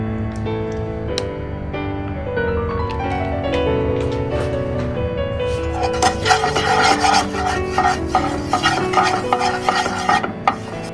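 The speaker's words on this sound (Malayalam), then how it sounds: "ഒരു ഫ്രൈ പാനിലേക്ക് ഞാൻ കുറച്ച് മഞ്ഞൾപ്പൊടി, കുറച്ച് കാശ്മീരി മുളക് പൊടി മിക്സ് ചെയ്യുകയാണ്" Turmeric, Kashmiri chili powder and coconut oil are mixed in a frying pan, giving a continuous scraping and rubbing of a utensil against the metal, close and steady, with a light sizzle growing stronger midway.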